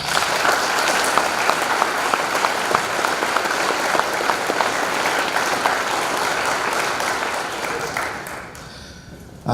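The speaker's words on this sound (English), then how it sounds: "Please give them a round of applause." A school assembly audience on Veterans Day applauds in a dense, sustained round of clapping that fills the room and then tapers off near the end.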